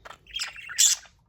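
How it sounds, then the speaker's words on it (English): A pet budgie parakeet gives a quick series of bright, scratchy chirps and a sharper squawk near the end, close by and alone. "Ooh, yes, you are. Oh, cute baby bird."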